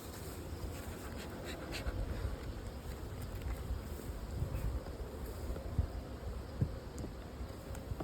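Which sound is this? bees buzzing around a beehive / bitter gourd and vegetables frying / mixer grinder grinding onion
bees buzzing around a beehive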